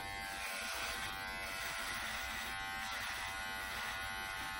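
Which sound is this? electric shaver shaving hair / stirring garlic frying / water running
electric shaver shaving hair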